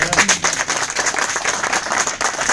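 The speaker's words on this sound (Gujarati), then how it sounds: "તો તમને નહીં લાગતું ફરીથી એકવાર દિલીપભાઈ માટે તાળી પાડવી જોઈએ?" A crowd in an Ahmedabad auditorium applauds Dilipbhai with dense, steady clapping that is close and fairly loud, lasting briefly with a few voices faintly underneath.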